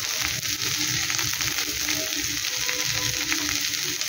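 Potatoes sizzling loudly in a hot pan as they go in for a twist roll filling, a steady crackling fry with faint stirring throughout.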